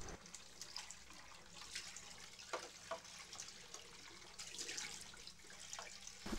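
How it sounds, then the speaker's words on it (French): Hot water runs from a tap into a bathroom sink while a container is rinsed, a continuous close splashing rush with slight surges and no voices. "le robinet coule pendant plus de 20 secondes"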